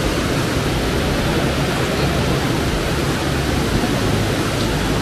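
A river near Ollantaytambo, Peru rushes past in a steady, loud, broadband roar of flowing water that stays constant and close throughout.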